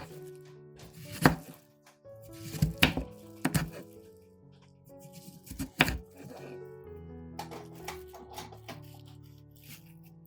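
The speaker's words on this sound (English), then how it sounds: "cut the melon into bite-sized pieces" A knife chops a watermelon into bite-sized pieces on a board, giving a handful of sharp, separate thunks with short pauses between them.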